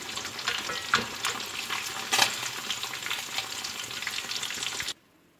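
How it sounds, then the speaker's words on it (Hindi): Fish frying in a pan, a steady close hiss of sizzling oil with a few louder crackling pops, ending abruptly into silence. "अब दूसरी तरफ से इसे अच्छी तरह से पका लेंगे"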